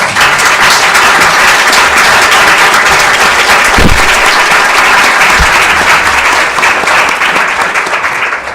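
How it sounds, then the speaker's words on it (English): A seminar audience applauds the panelists with loud, dense, sustained clapping that stays steady throughout and begins to ease only at the very end. "Please a big round of applause to our panelists."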